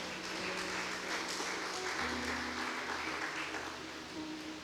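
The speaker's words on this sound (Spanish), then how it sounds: "Dale fuerte aplauso al Señor." A church congregation claps during a Spanish-language service, steady applause spread across the clip with a low hum of music or organ tones underneath.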